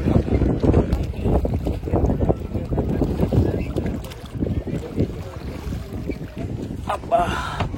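A boat ride on the water at the Triveni Sangam in Prayagraj during the Maha Kumbh Mela, with steady wind buffeting the microphone, churning water and engine rumble, and voices talking throughout.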